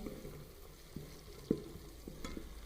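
Potato and egg curry masala with turmeric sizzles softly in a pan while a spoon stirs and scrapes now and then, a faint, close frying hiss with light knocks.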